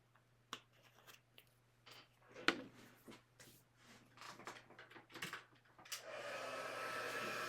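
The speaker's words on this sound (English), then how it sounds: "And I'm just going to grab my heat tool." A heat tool for melting embossing powder on a papercraft card switches on near the end and blows with a steady, close whoosh, after a run of soft tapping and handling sounds on the craft table.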